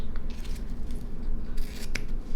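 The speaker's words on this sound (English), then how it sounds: "oh my god, these scissors suck" Several quick snips of poor-quality scissors cutting ribbon, close by, with a brief rasping rub between the cuts.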